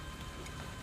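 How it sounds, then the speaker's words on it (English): Steady rain falls on open grassy ground under thunder clouds, a dense continuous hiss with low rumbling body, close and even throughout a brief stretch, with no voices. "Well, I'm getting chased by the rain here a bit."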